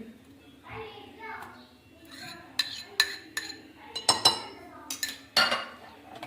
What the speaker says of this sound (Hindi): इसको हम मिक्स कर लेंगे अच्छी तरह।